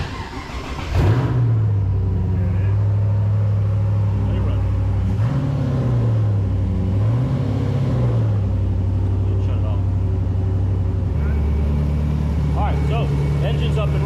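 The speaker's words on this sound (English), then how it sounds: "Okay, so now the engine is gonna fire up." An LS3 6.2L V8 swapped into a Mercedes fires up and settles into a steady, rumbling idle, with a couple of short revs partway through and voices talking nearby.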